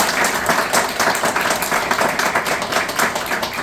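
An audience at a book talk applauds author Ignacio Jimeno, a dense, continuous patter of many hands clapping close by, with no voices.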